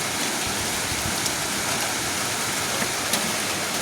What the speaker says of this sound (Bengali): আর এখনও বৃষ্টি পড়ছে